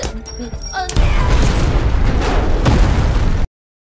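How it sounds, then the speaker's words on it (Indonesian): A thrown grenade in a film goes off as a loud, booming explosion with a rumbling blast that lingers for a few seconds after a brief quieter lead-in. "Ledakan pun terjadi karena Gisu melempar granit ke ruangan itu"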